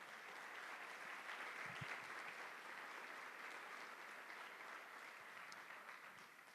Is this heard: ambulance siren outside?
no